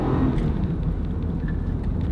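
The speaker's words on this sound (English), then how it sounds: "We got it in drive and we'll floor it." An 18-year-old car pulls away with the automatic transmission in drive and the engine floored: a steady, loud, close engine roar with rumble on an open road, with no talking.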